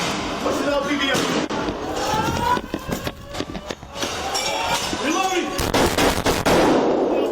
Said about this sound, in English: Using the sound of the gunfire to identify the location